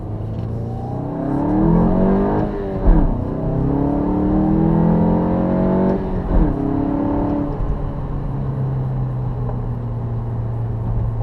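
A 2017 Volkswagen GTI MK7 engine revs and accelerates steadily, its pitch rising and falling through several surges, loud and close with no talking.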